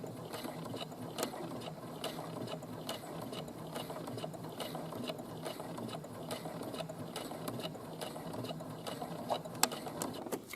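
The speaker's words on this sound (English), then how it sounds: "We're going to stitch to the end, and then we're going to back stitch about 3 or 4 stitches." Sewing machine stitching a 5/8-inch seam to the end and then back-stitching a few stitches, a steady, fairly quiet mechanical whir with fast regular needle clatter and no voices.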